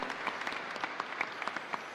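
A congregation at a live Mass in a chapel gives the choir a short burst of applause, soft and somewhat distant, with distinct individual claps in an uneven rhythm.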